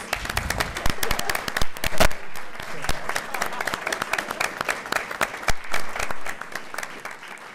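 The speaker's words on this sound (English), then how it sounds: "a round of applause for our kids" Audience applause for the kids at an Honors Night, dense clapping filling the whole stretch with louder bursts and a few sharp claps standing out, some voices mixed into the crowd.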